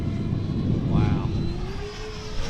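Dynam Gloster Meteor twin 70mm electric ducted-fan model jet on 4S power spooling up in flight on a gusty day, a loud continuous whooshing whine rising in pitch over wind noise while someone talks.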